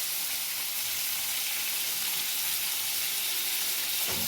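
Half-boiled potatoes with turmeric powder fry in a pan and get stirred, giving a steady, close sizzle with bright hissing crackle that carries on unbroken throughout.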